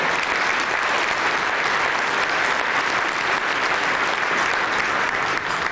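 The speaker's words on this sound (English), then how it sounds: "Please give a round of applause" A luncheon audience at an awards event applauds an honored development company, a loud, thick and unbroken roar of many hands clapping that stays level throughout.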